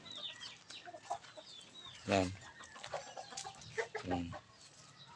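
Fighting roosters tied to their tethers cluck and make short fowl calls, two louder bursts standing out over a low, busy outdoor background, with a brief spoken word.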